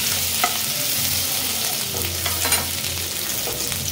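Whole black peppercorns, four cloves, a black cardamom pod, mace and garlic sizzle in hot oil for a Malvani kaleji masala. A steady, close frying hiss runs throughout, with a few soft stirring clinks and scrapes.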